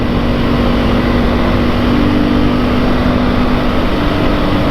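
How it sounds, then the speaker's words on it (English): Loud, continuous roaring wind buffeting on a 2022 Beta 430 RR-S motorcycle at about 65 mph, a broad rushing noise with a steady engine drone beneath, unbroken throughout. "The wind noise is deafening."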